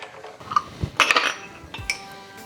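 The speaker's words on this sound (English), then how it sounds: "Quick stir together." A spoon clinks briefly against a glass while stirring a lemonade drink, a few close, bright taps over a short moment.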